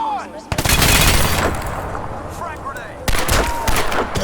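Rapid gunfire bursts from weapons in the video game Crysis 2 Remastered, loud and close, with two sharp onsets at roughly half a second and three seconds followed by sustained crackling volleys and a fainter voice beneath.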